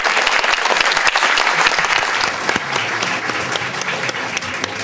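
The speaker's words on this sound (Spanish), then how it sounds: "Aplausos," Audience applause at an evening ceremony in Lima on women's achievements and challenges, a loud burst of many hands clapping that continues steadily for about five seconds, with faint crowd murmur underneath.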